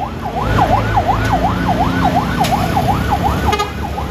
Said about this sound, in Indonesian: kalau yang ini ambulan